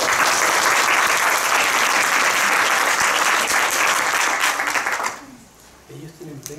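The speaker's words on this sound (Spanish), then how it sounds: "un aplauso para ellos, por favor" Dense applause from an audience at a school admissions forum, loud and steady for about five seconds before cutting off abruptly, followed by a faint voice.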